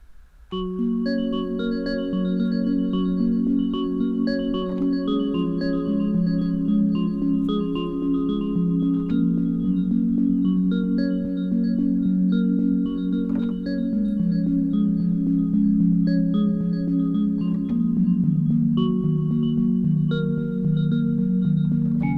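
A Korg Minilogue XD plays a vector synthesis user oscillator with slight detune and random grid modulation, giving sustained, shifting chord-like tones that blend and waver steadily for over twenty seconds with no voices.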